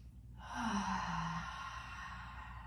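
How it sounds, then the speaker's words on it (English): A single long, deep exhale from someone doing a gentle beginner's yoga session, a breathy rush that swells after a quiet start and slowly fades, close and alone. "Take some big full breaths."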